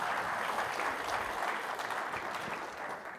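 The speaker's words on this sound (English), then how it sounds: "Everybody clap." Loud, sustained applause from an audience at a corporate awards ceremony fills the room, dense steady clapping that slowly tapers toward the end.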